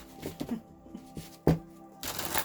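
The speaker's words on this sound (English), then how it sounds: "I didn't realize I was shuffling your decks in reverse." A deck of tarot cards is shuffled by hand, with several quick riffles and taps, close and clear with short pauses between.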